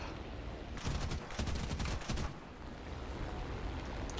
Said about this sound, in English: Did I just fire my gun by accident?